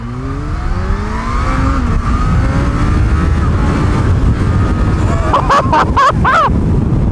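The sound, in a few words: Kawasaki ZH2 naked motorcycle engine revving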